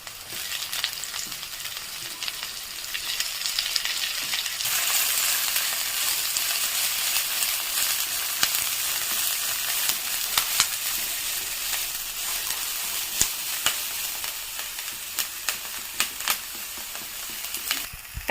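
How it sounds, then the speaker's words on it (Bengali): Paneer samosa filling with chopped capsicum fries in a pan, a steady loud sizzle with scraping stir strokes and occasional clicks of the spoon throughout, no talking. "ভালো করে নেড়েচেড়ে ভেজে নেব।"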